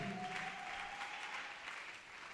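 A church congregation applauds in a steady, distant-sounding wash of clapping, faint and continuous, with a brief tonal note underneath near the start.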